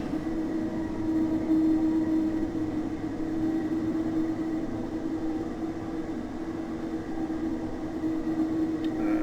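A diesel train in Train Simulator rumbles steadily as it creeps past, a continuous low drone with a faint sustained tone and no voices.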